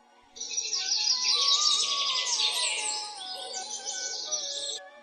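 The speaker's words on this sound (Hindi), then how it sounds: "पक्षियों की चहचहाहट फिर से जंगल में सुनाई देने लगी थी।" Forest birds chirp and warble in a bright, busy chorus, fairly clear and close, lasting about four seconds before trailing off into quiet.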